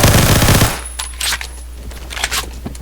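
An MSG-90 designated marksman rifle firing in the shooter game Phantom Forces: a loud burst of sound at the start, then several sharper, scattered shots and metallic clinks at mid distance.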